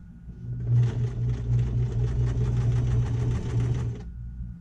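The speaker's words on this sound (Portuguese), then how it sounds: "E vou costurando." Sewing machine running steadily for about three seconds, stitching a seam in fabric for a zipped pouch, with a fast even needle rhythm, close and fairly loud, and no talking.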